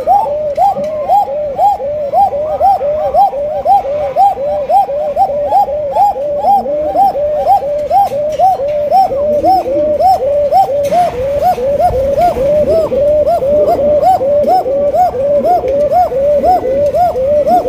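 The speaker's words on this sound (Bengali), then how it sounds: "অসাধারণ এক জোড়া কবুতর ভাই, জোড়ানো কবুতর ভাই।" A pair of pigeons cooing in a steady, rapid repeating rhythm, close and loud, the soft rolling coos continuing without pause throughout, with no speech.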